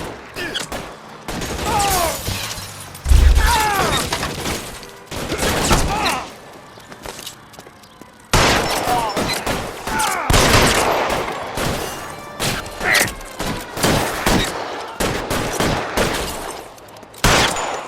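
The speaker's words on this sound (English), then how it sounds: "Lay down some cover fire!" A gun battle in the video game LA Noire: repeated loud bursts of gunfire and rapid volleys crack out in clusters across the whole stretch, with short pauses and shouted voices mixed among the shots.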